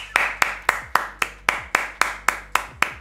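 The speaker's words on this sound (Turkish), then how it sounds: "bir destek alkışı" Hands clap in a steady, evenly spaced rhythm, about a dozen sharp, close claps over a few seconds during a FIFA 23 football video game session, with no talking.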